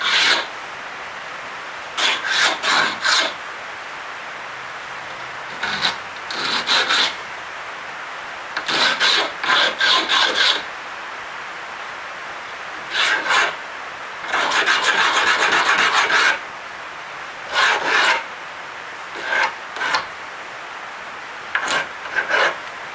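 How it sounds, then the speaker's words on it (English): A coarse sandpaper block rasps across wood in repeated bursts of quick back-and-forth strokes, close and fairly loud, with short pauses between the sets. "the roughest sandpaper you can get on a block"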